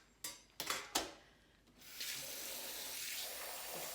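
A few sharp clatters of metal oven racks, then a tap runs and fills a container with water for soaking them. The rushing fill goes on steadily up close, with no talk.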